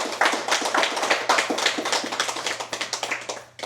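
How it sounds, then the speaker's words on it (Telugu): A group claps hard together after a meditation session, a dense, steady run of sharp hand claps that fills the room for several seconds, loud and close with no talking. "సో ఈరోజు మెడిటేషన్కి ఒకసారి గట్టిగా చప్పట్లు కొడదాం మళ్ళీ ఒకసారి."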